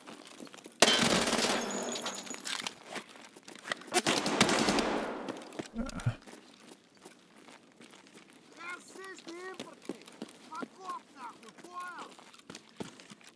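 UZI PRO submachine gun firing in a video game, a loud rapid automatic burst lasting several seconds, followed by quieter game sounds and someone talking.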